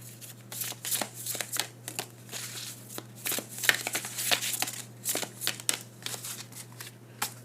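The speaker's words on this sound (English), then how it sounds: "let me just pull some more cards and see what comes out" Tarot cards are shuffled close up in a quiet room, giving soft, irregular riffling and crinkly flicks in uneven bursts over a steady low hum.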